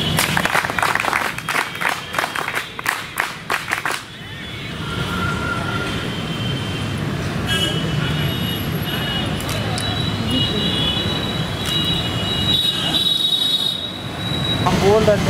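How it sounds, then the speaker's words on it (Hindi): Several people clap together in a short burst of sharp, rhythmic claps at a gathering in Gorakhpur, followed by a long stretch of steady outdoor rumble with faint voices. "ताली बजा"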